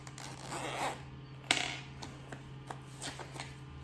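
A zipper on a fabric double pencil case is pulled open and closed in several quick rasping strokes, close and crisp, with soft handling rustles between them.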